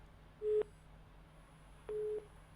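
A dropped phone-in caller's line on a call-in television show, leaving a busy signal: two flat, evenly pitched beeps separated by a pause, moderately loud over faint line hiss.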